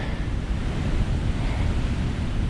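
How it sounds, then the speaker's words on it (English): Water sloshes steadily through a slough, a continuous rushing wash heard up close and fairly loud with no voices over it. "This slough through here, all this water sloshing."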